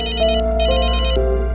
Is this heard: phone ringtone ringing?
yes